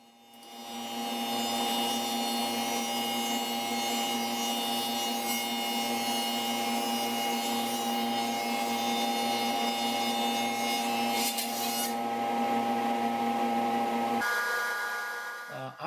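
A power feeder pushes wood mullion pieces through a cutter along a fence, a continuous steady machine whine with a rhythmic low pulsing, running loud for most of the clip before stopping abruptly.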